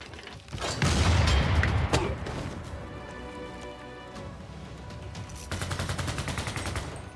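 Unit firing in a Civilization VI: Rise & Fall battle, a loud burst of rapid gunfire with a heavy boom, then a quieter stretch and another crackling volley of shots near the end.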